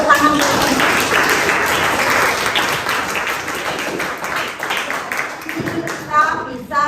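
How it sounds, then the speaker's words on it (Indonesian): Children in a classroom clap together in a dense, steady round of applause that runs nearly throughout, thinning slightly toward the end with some voices mixed in. "Tepuk tangan."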